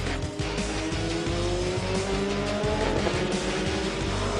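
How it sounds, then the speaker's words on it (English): Asian Formula Renault single-seater race cars on the final lap, engines roaring loudly and continuously up close with rising and falling pitch and brief tire squeal, no voices heard. "There were some close fights in the last lap, with Thomas Ludi trying to catch Andy Zhang and Poo Jun Jin down the final straight"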